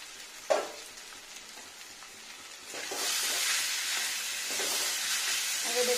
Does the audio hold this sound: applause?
no